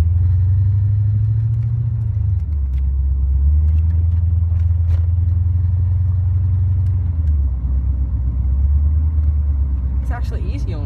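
A car engine hums low and steady and then shifts pitch as the driver gives gas, a close, loud rumble with voices talking over it.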